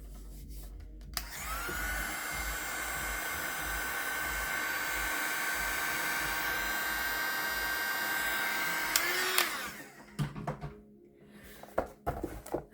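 A hair dryer blows on watercolor paint on a night-sky-and-mountains bookmark, a loud, steady whooshing whir running for about eight seconds before it cuts off, followed by faint handling noises.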